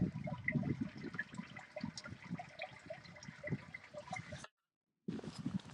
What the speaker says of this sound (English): There's lots of water running down the road.